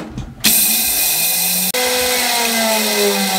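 An electric grinder whirs loudly and steadily, milling raw basmati rice into flour, its motor pitch sliding slightly as it runs.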